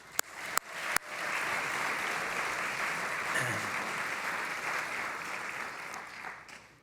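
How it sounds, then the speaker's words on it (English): Sustained applause from a gala audience at a government service awards ceremony, a few sharp claps opening into steady, dense clapping that fills the room and holds without talk. "Big round of applause for all of you."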